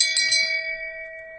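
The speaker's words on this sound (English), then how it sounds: "I deserve the shame bell." A shame bell in a live podcast studio is struck a couple of times at the start, then its bright metallic tone rings on and slowly decays.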